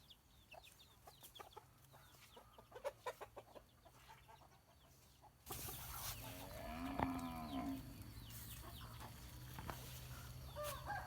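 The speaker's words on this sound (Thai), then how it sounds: "นี่ฝั่งฟาร์มไก่ครับพี่น้อง" Chickens on a chicken farm on a mixed fruit and sugarcane plot: scattered clucks and short calls, quiet and somewhat distant at first, then louder and closer with a rooster-like call over steady farmyard background noise, with no talk.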